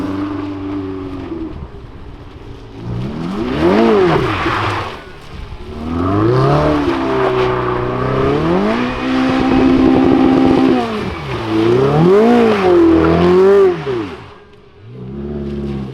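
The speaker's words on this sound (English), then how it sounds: "where the 488's about to do some donuts" A Ferrari 488 doing donuts on a runway, its engine revving loudly in repeated rising and falling sweeps as it circles, close and dominant throughout.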